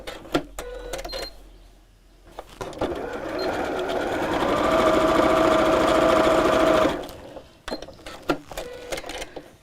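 A sewing machine runs one long, steady stitching burst along the side seam of a crossbody bag with a turning gap. Sharp handling clicks and taps come before and after the run.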